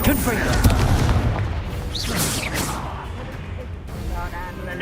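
Explosive Confringo spell blasts in the wizarding video game Hogwarts Legacy, a dense run of loud booms and crashes with overlapping combat effects and a shouted voice, continuing without pause throughout.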